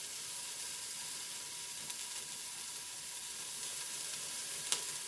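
Ground beef sizzles in a pan as a soft, steady hiss, with one brief tap of a utensil late on and no talking.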